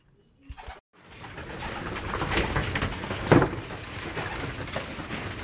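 Racing pigeons crowd and coo excitedly at feeding time, a dense, steady flutter and cooing that swells after a brief pause and continues loudly throughout, with occasional sharper bursts.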